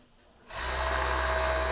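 A sewing machine stitching tulle and lace starts abruptly about halfway through and then runs as a steady, loud, continuous motor whir close by, with no talking.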